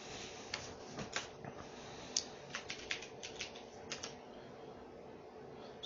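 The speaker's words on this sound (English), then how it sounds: "Let me get my keyboard here." Light, irregular taps of typing on a computer keyboard, soft and close with scattered clicks and brief pauses, in a quiet room with no talking.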